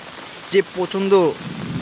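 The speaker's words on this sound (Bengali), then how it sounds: "আলহামদুলিল্লাহ যে অবশেষে বৃষ্টির দেখা পাওয়া গেল" Steady rain falls as an even, hissing wash in the background while a person speaks briefly over it.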